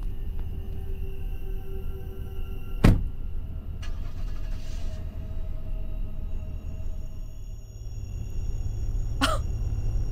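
A car driving in the horror video game Fears to Fathom, a steady low engine rumble running throughout with two sharp clicks and a brief faint hum in between.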